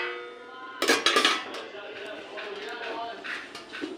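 A metal lid comes off a pot of simmering paneer kofta curry with a sharp clatter of several quick clanks, and then a soft bubbling and hiss follows under someone talking.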